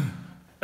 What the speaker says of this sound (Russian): Прошу прощения, кашляю.